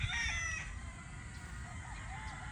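Brood stag roosters in a yard give a few short clucks and faint crowing over a steady outdoor background hum, the bird calls moderately distant and soft.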